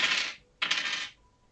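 Dice rolled for a Ten Candles tabletop role-playing game, two quick close bursts of rattling clatter on a hard surface, the second after a brief pause, with no talk over them.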